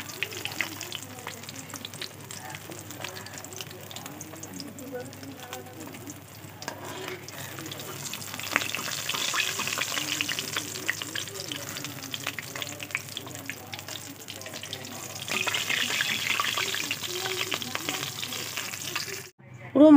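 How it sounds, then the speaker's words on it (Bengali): Catla fish pieces fry in hot oil in a home kitchen, a long, steady crackling sizzle that swells and fades with stirring, ending in a sudden loud clatter. "পুরো মাছ ভাজা হয়ে গেছে।"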